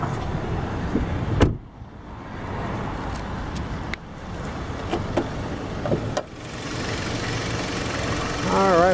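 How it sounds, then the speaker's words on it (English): A 2012 Hyundai Santa Fe inline four-cylinder engine idles steadily in the background, with a few clicks and thumps near the start and a voice beginning at the end. "Inline four-cylinder engine purring away like brand new"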